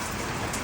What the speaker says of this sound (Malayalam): മഴത്തുള്ളികൾ